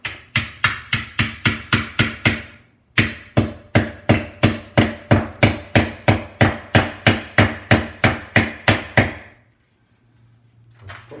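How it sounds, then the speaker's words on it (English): Masonry nails hammered through a metal cable cover on a wall during home extension wiring: a long run of loud, close, evenly spaced hammer blows, about three per second, with a short pause between two bursts before falling quiet. "using masonry nails we can just tack that in place"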